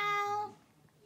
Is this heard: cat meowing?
yes